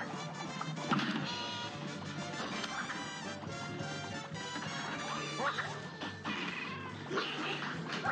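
A cat meows and caterwauls in the video game Cuphead, repeated loud yowls within a dense, busy mix of music and crashing game effects.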